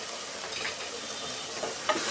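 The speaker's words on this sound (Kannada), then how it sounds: "ಸ್ವಲ್ಪ ಚೆನ್ನಾಗಿ ಫ್ರೈ ಮಾಡ್ಕೊಳ್ಳೋಣ" Garam masala and coriander powder fry in a pan for vegetable pulao, giving a steady, quiet sizzle broken by a couple of soft spoon scrapes as the spices are stirred.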